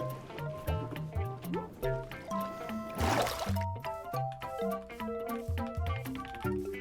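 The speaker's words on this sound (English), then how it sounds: "I had a wee swim." Splashing and gurgling water sounds from swimming in the video game Minecraft, with bubbly liquid noises over a steady, bouncy melodic music track and a brief louder wash of water partway through.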